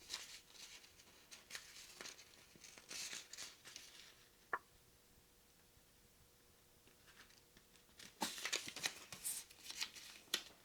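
Origami paper being folded and creased for a small magic ball, crisp rustling and shuffling bursts in two clusters separated by a quieter stretch, close and moderately soft.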